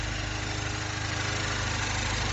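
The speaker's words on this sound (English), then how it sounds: "you can listen to the engine idling and running" A 2010 Mini Cooper S R56 engine idles steadily with the hood open, a constant low rumble with a broad mechanical hiss, heard up close with no talking.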